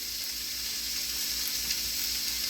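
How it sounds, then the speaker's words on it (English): Leeks, onion and celery sizzling in hot olive oil in a pan: a dense, constant hiss of frying, close and even, with no voices. "So I'm going to go ahead and add your leeks, your onion, your celery."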